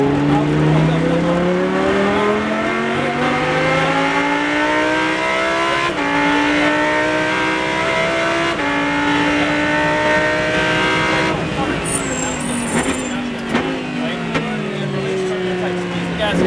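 A Lamborghini Super Trofeo race car at Exotics Racing Las Vegas roars loudly from the cockpit, its engine pitch climbing and dropping through repeated shifts, with brief tire squeal and an instructor talking over it.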